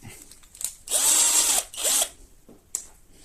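A small drill bit bores holes into a wooden door frame to mount a Tiiwee X1 alarm sensor, giving two close, loud whirring bursts of about half a second each, followed by faint handling clicks.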